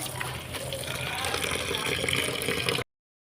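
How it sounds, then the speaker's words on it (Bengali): Water pours steadily over jute leaves as they are washed, a close, continuous splashing gush with some talk over it that stops abruptly. "এই দেখো শাকগুলো এখন ধুয়ে নেব এই জল পড়ছে জল দিয়ে ভালোভাবে ধুয়ে নেব শাকগুলোকে"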